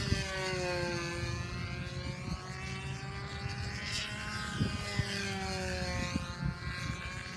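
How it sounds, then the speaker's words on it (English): A Tiger Shark model airplane engine drones with a buzzing whine as the plane flies loops, its pitch rising and falling as it passes nearer and farther, steady and continuous with no talk. "I can get this video onto YouTube so Francis can see how this engine's running."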